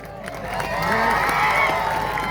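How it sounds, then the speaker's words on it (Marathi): A crowd at a tribal music event welcomes a performer with steady applause and some cheering, a dense wash of clapping that swells slightly midway, with faint voices underneath. "आपण आवाजाबरोबर टाळ्यांचा पण आवाज येऊ द्या जरा"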